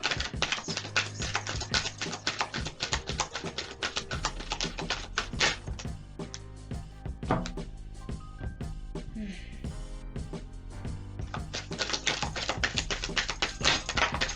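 Dense, rapid flapping and tapping of large tarot cards being shuffled, continuous with a brief pause midway, close and fairly quiet.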